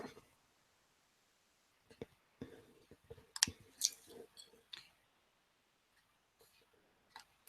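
Sparse computer mouse clicks while importing debtor data in accounting software, a few soft separate taps spread across a quiet stretch, close and faint with gaps of near silence.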